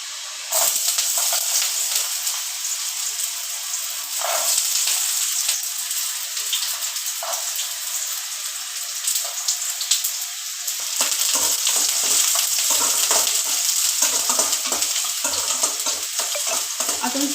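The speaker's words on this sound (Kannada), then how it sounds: "ಫಸ್ಟು ಶುಂಠಿ ಬೆಳ್ಳುಳ್ಳಿನ ಹಾಕ್ಕೊಳ್ಳಿ." Ginger and garlic frying in hot oil on low heat for an egg and chicken sambar, a steady close sizzle with scraping stirs and soft pops running throughout.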